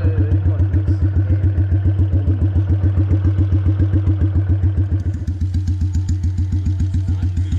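A customised Royal Enfield bobber motorcycle with a 1944 engine runs steadily at idle, a loud, even thumping rhythm with light mechanical clatter, close by and alone.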